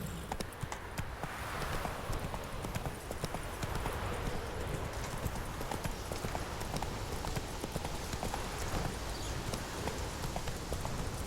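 Geralt's horse Roach in Witcher 3, her hooves beating a constant rapid clip-clop at a gallop, loud and close, the rhythm never breaking.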